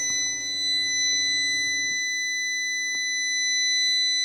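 A steady electronic warning chime rings continuously, a Fiat 500's seatbelt alert tone holding at an even pitch, with a low rumble fading out partway.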